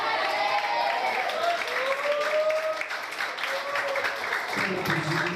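A congregation at a Portuguese-language evangelical service claps and cheers in praise, a full continuous round of applause with raised voices and sung or shouted tones mixed in.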